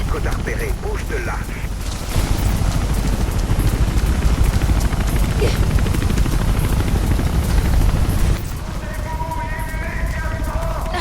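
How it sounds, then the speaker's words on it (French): Steady rotor thrum of a helicopter in the video game Mirror's Edge, loud and continuous, with brief electronic tones near the end. "L'hélicoptère repéré, bouge de là."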